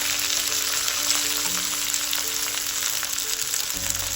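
Fenugreek seeds, ginger, onion and garlic frying in oil for a Nepali potato and bakulla curry, producing a continuous dense sizzle at steady loudness with faint clinks underneath and no speech.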